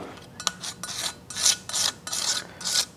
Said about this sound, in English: I like to just take a razor blade and hit any of the high points of the material